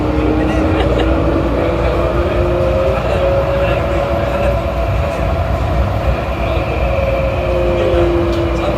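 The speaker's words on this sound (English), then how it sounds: "इतना बड़ा एयरपोर्ट है इसमें ट्रेन चलती है" An airport shuttle train at Jeddah Airport rumbles steadily along its track, loud and continuous, with voices murmuring faintly in the background.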